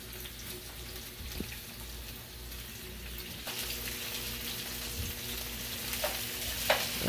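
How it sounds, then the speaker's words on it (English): Steak hits a hot pan piece by piece as it is seared for a cognac sauce, a continuous crackling sizzle with a few sharper pops and stirring clatters. It grows slightly louder over several seconds, with no voices. "now that our second pan's nice and hot, let's add our steak one by one until it's fully covered"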